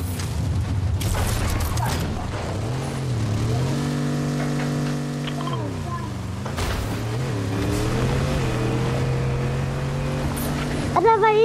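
A car driving in Fortnite, a steady engine drone that rises and falls in pitch as it revs and shifts, with mechanical creaks and rattles, heard under players chatting.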